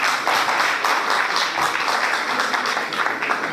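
A dense, steady burst of audience clapping at a Hindi poetry gathering, loud and continuous for several seconds with no pauses, many hands blending into a bright wash.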